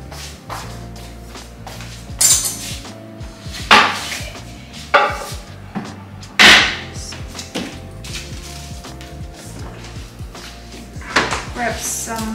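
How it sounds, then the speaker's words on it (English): Vegetables are cut on a board beside a stove where chicken thighs fry, giving a series of irregular knife knocks and clattering kitchen bumps, some sharp and loud, over a faint sizzle, with a person speaking throughout. "start frying the chicken thigh while I'm cutting my veggies"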